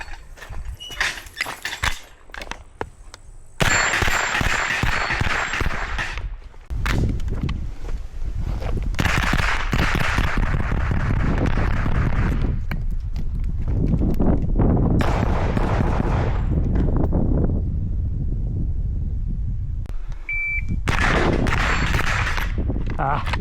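A Heckler & Koch SP5 short-barreled rifle fires in quick bursts outdoors, the action cycling with sharp rapid clacks between quieter gaps, fairly near and moderately loud.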